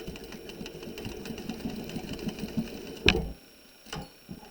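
Sewing machine back tacking across the armhole seam of a top, a quick run of rapid mechanical stitching ticks and hum, then a sharp clack as it stops, followed by a brief softer burst; close and fairly quiet, no voices.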